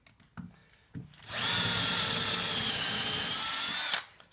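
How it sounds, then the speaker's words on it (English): A drill bores into an oak treasure box mounted on a lathe, a sharp whining grind that starts abruptly, holds steady for about two and a half seconds and then cuts off, after a few light knocks. "The problem was I didn't drill the hole big enough."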